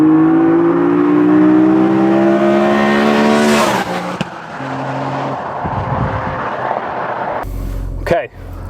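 A BMW Z4 M Coupe inline-six engine with individual throttle bodies and a carbon airbox revs up steadily with rising pitch, then shifts and keeps pulling, loud and close, with a brief burst of noise near the end.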